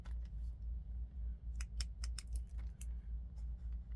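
Someone types a note on a computer keyboard with bursts of quick, crisp clicks. The keystrokes sit close over a low steady hum, and no one speaks.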